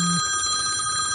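A mobile phone rings with a steady electronic ringtone of sustained tones that runs unbroken for the whole moment, fairly loud and close indoors, with no talking over it.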